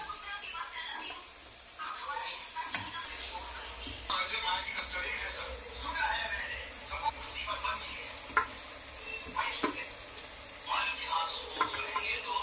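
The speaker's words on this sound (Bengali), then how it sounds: "বেরেস্তাটা ভেজেছি, দেখুন সরু সরু করে পেঁয়াজ করে, সব মুচমুচে একদম পেঁয়াজ।" Thinly sliced onions frying until crisp for beresta for a cauliflower, potato and paneer veg biryani, a steady soft sizzle with occasional stirring clinks while someone talks over it.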